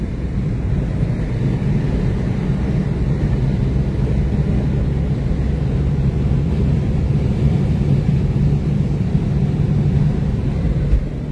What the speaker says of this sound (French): Allez, on accélère un coup.